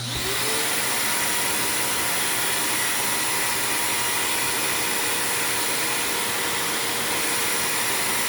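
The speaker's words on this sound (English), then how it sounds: "Vacuum, apologize for the noise." A vacuum runs continuously for suction on a mini-mill grinding setup, a loud, steady broadband whoosh with a faint whine that holds unchanged throughout.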